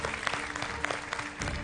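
A studio audience applauds at a televised singing competition gala, with steady dense clapping throughout and a brief fresh swell near the end.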